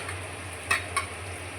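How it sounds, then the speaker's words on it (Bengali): Potatoes for aloo dum fry in a pan, giving a steady, soft sizzle broken by two quick metallic clinks of a stirring utensil. "আমার এখানে আলুর দমের আলু ভাজা চলছে"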